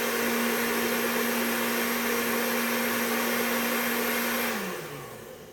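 A blender whirs steadily at full power mixing chimichurri sauce for a ribeye sandwich, a constant loud motor drone that winds down and slows near the end, with no talking.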